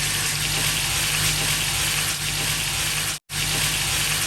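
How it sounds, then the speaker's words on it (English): Steady, loud sizzling of well-seasoned beef frying in hot coconut oil over medium heat, a dense continuous crackle with a low hum beneath and one brief cut near the end. "I would then introduce my well seasoned beef"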